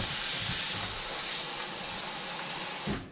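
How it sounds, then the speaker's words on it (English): Tap water runs steadily as steak packaging is rinsed out at a homestead, a close continuous hissing splash that cuts off abruptly near the end. "we're just going to rinse these out so that it's nicer in the garbage"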